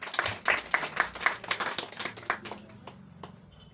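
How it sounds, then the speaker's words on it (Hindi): A church congregation at a Hindi-language fellowship service claps hands for the Lord, a rapid, loud burst of clapping that thins out and fades toward the end. "प्रभु के जोड़ा ताली बजाएंगे।"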